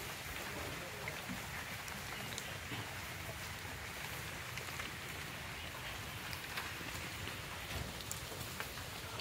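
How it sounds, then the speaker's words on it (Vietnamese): Steady rain falls outdoors beside a charcoal fire where bánh tét is being cooked, making a constant dense patter with no voices. "Trời đang mưa nè"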